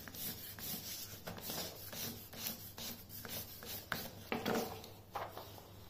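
A crayon rubs firmly back and forth across a paper sheet in a children's art activity, giving quiet, rhythmic scratchy strokes that come up close but faint, with no talking.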